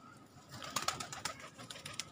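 Domestic pigeons in a loft, including a white one, give soft low coos with a few brief flutters and pecking sounds, fairly close, over a quiet background.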